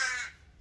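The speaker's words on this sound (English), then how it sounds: "The crows. Shut up." A single crow caws once, sharp and fairly close, then fades into a quiet background.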